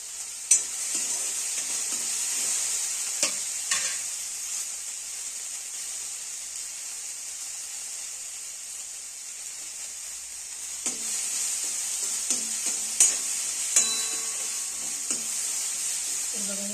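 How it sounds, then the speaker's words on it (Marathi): Moth beans (matki) dry-roasting in a pan for misal pav, a continuous faint hiss with scattered scraping stirs and light clinks of the spoon, clustered near the start and again later. "मी भाजून घ्यायचे थोडं फक्त मटकीचा कच्चा वास जाण्यासाठी"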